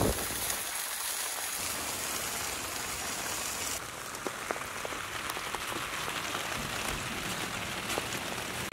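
Rain falling on a beachside campsite, a steady hiss of drops with scattered sharper taps on surfaces, continuous and fairly close throughout.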